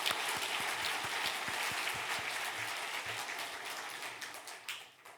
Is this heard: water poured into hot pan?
no